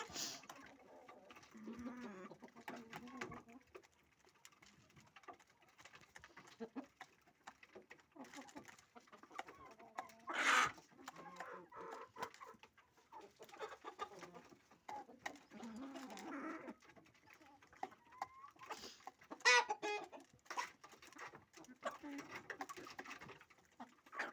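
Chickens peck and eat in the evening at a farmyard, giving soft intermittent clucks and cooing calls with scattered faint pecking noises, mostly quiet and interrupted by occasional louder bird calls.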